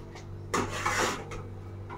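A spoon scrapes and stirs Maggi noodles with masala in a pot, giving two or three short rasping strokes against the metal, close and without speech.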